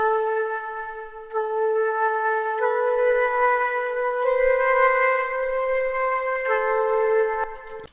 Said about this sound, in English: we have similar variation of the trumpet instruments